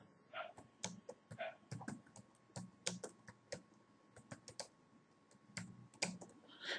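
Rapid, uneven clicks of a computer keyboard as a Google search for free email sending software is typed, close and clear with bursts of keystrokes and short pauses, no voice.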